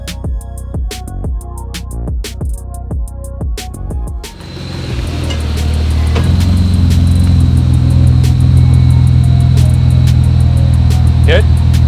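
A supercharged BMW M3 fires up outdoors partway through, after a few seconds of other tonal sounds, then settles into a loud, steady, deep engine rumble that runs close and continuous to the end.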